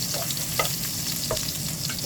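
Garlic frying in hot oil for chicken adobo, a dense, steady close-up sizzle with faint stirring scrapes underneath.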